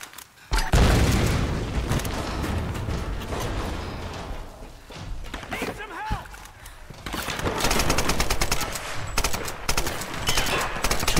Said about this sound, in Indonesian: aku pakai rifle